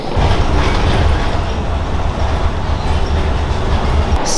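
Riding an airport monorail: a loud, steady rumble of the train in motion, with continuous low rolling noise and faint clatter and no voices.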